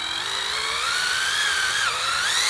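A high-pitched drill whines continuously while drilling a hole in a wooden A-frame level leg, its pitch wavering as it bites into the wood, loud and close with no talking.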